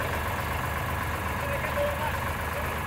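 Eicher tractors, a 557, 485 and 551, run together in third-gear-low for a speed test, their engines giving a steady, loud diesel drone throughout while someone talks over them.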